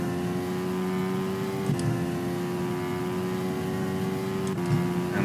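A Hayabusa-swapped Miata in an Assetto Corsa drag race screams through its gears, a loud high-revving engine tone that climbs, drops sharply at two gear shifts, and climbs again, with no talking.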